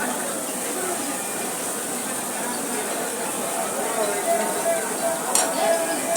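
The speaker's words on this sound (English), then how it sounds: "He is preparing the onion dosa." Onion dosa cooking on a hot griddle at a railway station food stall, a steady close sizzle with faint scraping and a brief metallic clink near the end, busy background noise throughout.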